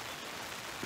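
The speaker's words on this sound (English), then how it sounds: "by the time I got the drone set up, it was raining pretty good" Rain falls steadily on an open pasture as a soft, even hiss, faint and continuous with no distinct drops standing out.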